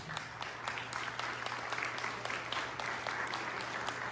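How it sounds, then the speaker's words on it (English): An audience at a Republican club congressional candidate forum claps steadily, a moderately faint, continuous patter of many hands throughout. "Give them a round of applause."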